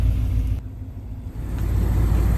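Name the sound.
truck engine maneuvering out of a tight spot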